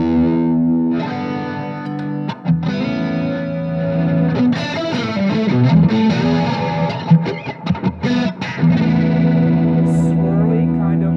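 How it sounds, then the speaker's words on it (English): Distorted electric guitar played through a swirly rotary modulation effect, chords and single notes pulsing with a wobbling, chorus-like shimmer, loud and upfront with no talking. "Swirly kind of rotary effect"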